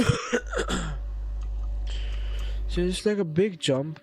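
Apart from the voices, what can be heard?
cat coughing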